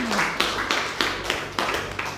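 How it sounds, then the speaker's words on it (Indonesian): Several people clap hands together in a small room, about seven sharp, evenly spaced claps at moderate volume, with a brief voice at the start. "tepuk tangan"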